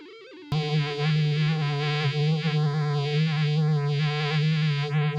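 A random light device drives a Mid-Fi Random Phase & Vibrato pedal, giving a steady, buzzy synth-like drone that starts abruptly, with warbling, swooping phaser sweeps drifting unpredictably over it.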